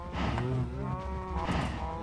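Minecraft cows moo in a game, one drawn-out low moo followed by a second shorter one, clear and close with nothing else over them.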